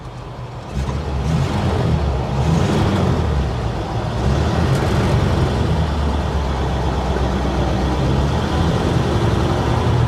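A 1953 Pontiac Chieftain engine idles with a steady low rumble, then rises into a sustained rev that holds loud and close throughout.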